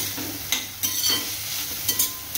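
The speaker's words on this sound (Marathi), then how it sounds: "आता हळद टाकल्यानंतर चांगलं मिक्स करायचं." Vegetables being stirred in a sizzling pan after turmeric is added for a ridge gourd dish, with repeated scraping strokes over a steady fry, close and without talk.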